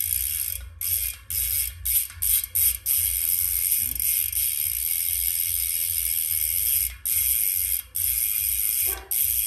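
The freehub ratchet of a Fulcrum Wind 40 AC3 carbon bicycle wheel with a Shimano/SRAM 11-speed body clicks as a loud, crisp, rapid buzz while the wheel coasts, broken by repeated short pauses and restarts.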